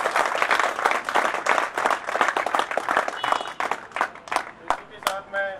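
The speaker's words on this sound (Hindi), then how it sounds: "जोर से तालियां बजाओ एक बार।" An audience claps loudly and unevenly at a company's tenth foundation-day celebration, a burst of crisp hand claps with some voices mixed in toward the end.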